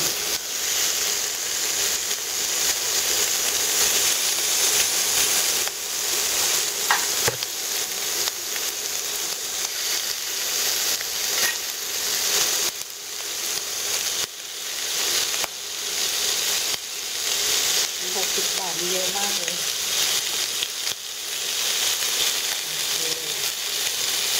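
Pork belly sizzles in a pan as its fat renders, giving a steady, moderately loud frying hiss that runs the whole time, with a few brief clinks and faint bubbling bursts toward the end.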